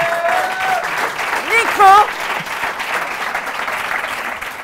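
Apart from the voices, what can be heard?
audience applauding the evening's winner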